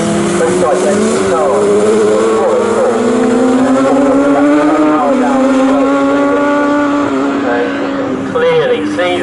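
An F1000 single-seater race car at Snetterton accelerates hard out of corners, its engine note climbing loud and close through rising gear sweeps, with a commentator talking over it.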